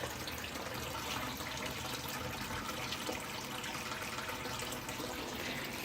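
Water in a backyard fish pond, a steady, close trickling rush like a pump outflow or small fall running without a break and no one speaking.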